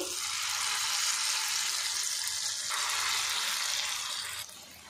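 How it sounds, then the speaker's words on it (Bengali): Flattened egg-and-potato snack patties sizzle steadily in hot oil, a close, constant hiss that softens slightly near the end. "এবার এই তেলের মধ্যে একটু দেখুন ফ্ল্যাট করে দেব, দিয়ে এইভাবে আমি নাস্তাগুলো দিয়ে দেব"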